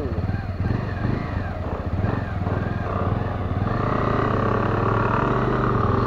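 Motorbike ride in Manipur near Loktak Lake: a steady, close engine drone runs throughout with wind rush, and faint voices talk over it.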